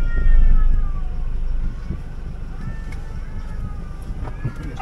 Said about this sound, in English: Oh, the cats are fighting.